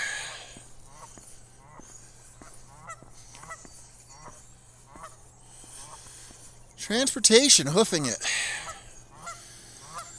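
Geese honk loudly in a noisy flurry, preceded by softer scattered honks, with someone speaking briefly over the birds, outdoors at Pompeys Pillar.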